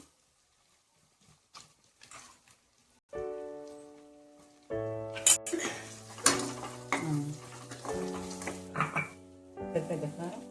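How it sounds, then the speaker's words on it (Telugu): Ground masala powder hits a hot pan and starts to sizzle, followed by stirring and metal scraping against cookware, with a loud tonal hum running underneath. "ఇప్పుడు మసాలా పొడి వేసాను కదా, అది ఏగిపోయింది"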